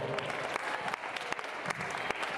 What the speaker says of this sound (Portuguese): Palmas bem forte para Jesus agora.